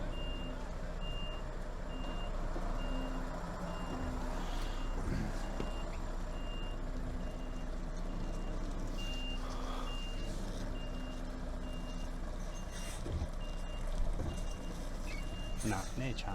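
A 44-ton articulated lorry reverses through tight residential streets, its reversing alarm beeping in a steady repeating pattern over a low diesel idle, with occasional hiss and people talking nearby.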